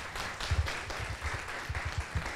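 A lecture audience during a psychology week talk claps quietly for a couple of seconds, producing a soft, fairly sparse patter of hand claps with a few thumps, faint and somewhat distant.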